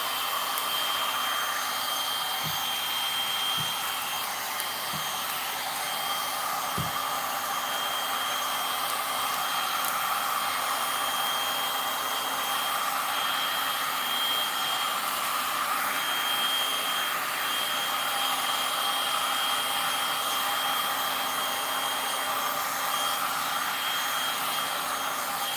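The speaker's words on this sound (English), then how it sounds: "Back to our heat gun." A heat gun blows hot air over an acrylic pour, a loud steady whooshing roar that runs without a break from start to finish, with a couple of faint knocks early on.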